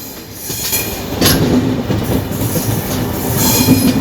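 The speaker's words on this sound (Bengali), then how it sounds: "ট্রেন আমাদের ছেড়ে দিয়েছে কন্যাকুমারী স্টেশন।" The Kanyakumari–Dibrugarh Vivek Express rolls onward after pulling out of Kanyakumari station, a loud steady rumble with clacking wheels over rail joints and brief metallic squeals, heard from aboard the train.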